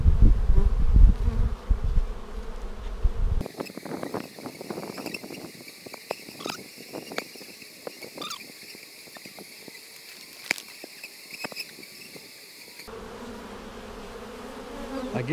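Honey bees buzzing around an opened hive split on a cool March day, a steady high insect drone with many passing individual buzzes, loud and close throughout, with a louder low rumble of handling at the start and end.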